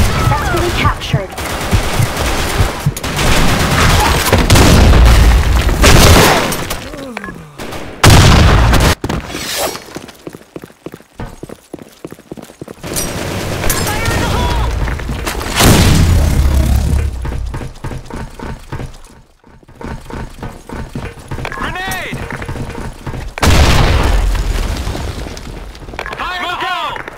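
Grenade blasts and heavy gunfire from a Blackshot capture-the-flag match, with repeated loud booms and rapid shooting bursts throughout, game voice callouts heard between the bangs.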